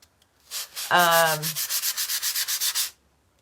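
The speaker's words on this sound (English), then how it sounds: "You sand them. Don't push real hard because it's painted and your fabric will rip." Light hand sanding of a painted primitive pilgrim craft figure with 220-grit sandpaper, heard as about a dozen quick, even back-and-forth rasping strokes up close, starting with one brief squeak.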